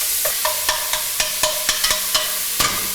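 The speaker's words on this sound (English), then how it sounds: "we're gonna use our tongs and just break them up." Caramelized pork balls are broken apart with tongs in a sizzling pan, giving steady frying hiss punctuated by about a dozen sharp metallic tong clicks and scrapes, close and alone without voices.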